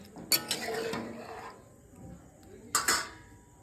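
A spoon stirring spices into egg curry in a pan, two brief metallic clinks and scrapes about two and a half seconds apart, faint and close, with quiet rustling in between.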